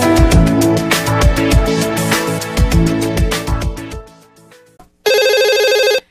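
A telephone rings loudly in repeated bursts, then goes quiet before a shorter, harsher electronic ring tone cuts in just ahead of a call being answered.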